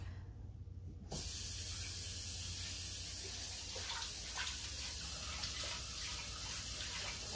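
Tap water runs hard into a large metal pot being rinsed before cooking noodles, a steady close spray that starts abruptly after a quiet second and continues unbroken.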